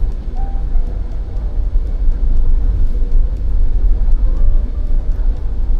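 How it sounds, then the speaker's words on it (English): A Chery Tiggo 7 Pro with a turbocharged engine accelerates in normal mode, giving a steady, loud engine and road rumble heard from inside the cabin, with no talk. "you step a little bit more, the turbo boosts out at around 2000 RPM and the car just goes"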